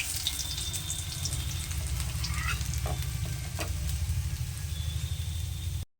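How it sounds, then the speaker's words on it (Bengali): Pabda fish frying in oil in a wok, giving a continuous, close, crackling sizzle with steady bubbling and faint occasional scrapes, no voices. "এই দেখুন মাছের নিচের দিকটা আর উপর দিকটা ভালোভাবে ভাজা হয়ে গেছে"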